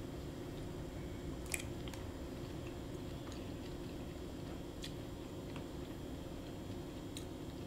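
Bun dau thap cam, rice vermicelli with shrimp paste, is eaten by hand, giving faint soft chewing and occasional small squishy ticks beneath a steady, busy background hiss.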